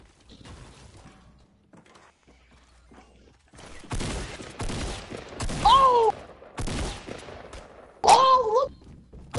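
Shotgun blasts in a video game ring out as several loud, sharp bursts in the second half, with scattered mechanical clicks and whooshes nearby and a quieter stretch before.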